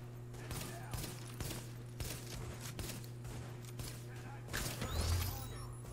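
Gunfire in the video game The Division, with repeated sharp shots in an irregular rhythm over a steady low hum and some clatter, fairly faint in the mix.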